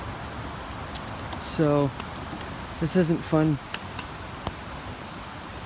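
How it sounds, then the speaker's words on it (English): Steady rain falls on a forested stretch of the Appalachian Trail near the Lemon Squeezer, a constant close hiss with drops pattering on gear, while a hiker speaks briefly a few times over it. "I just hope that it just stops raining."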